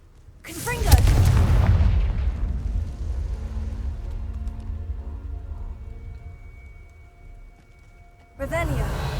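Confringo blasting curse explosions in Hogwarts Legacy on PS5, a heavy booming blast with a long rumbling decay, a second blast hitting near the end, and voices sounding around the blasts.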